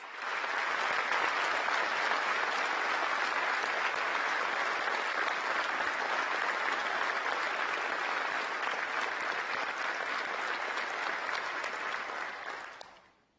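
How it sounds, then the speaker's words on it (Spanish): Strong, sustained applause from a large plenary audience at the Communist Party Congress, a dense, even roar of clapping holding steady for about twelve seconds before ending abruptly. "les solicito un fuerte aplauso para ellos"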